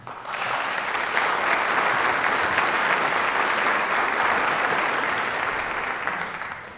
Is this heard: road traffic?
no